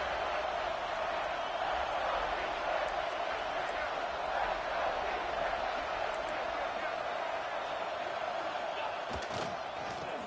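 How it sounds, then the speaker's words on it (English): A football stadium crowd roars in a sustained wash of cheering during a red-zone defensive stand, with a commentator talking over it. "here comes the noise. This crowd is trying to inspire this defense to make a big red zone stop"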